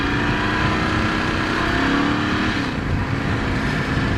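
A 2018 Ducati Scrambler 1100 motorcycle being ridden, its engine note a steady, close rumble mixed with wind buffeting, holding a fairly even pitch without talk.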